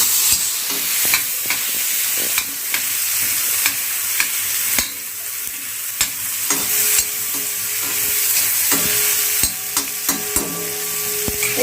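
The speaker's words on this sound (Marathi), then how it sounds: "छान असं तेलामध्ये आपण टोमॅटोला फ्राय करून घ्यायचं आहे." Chopped tomatoes fry in hot oil in a pan, a continuous bright sizzle broken by sharp, repeated clicks and scrapes of a spoon stirring, close and alone.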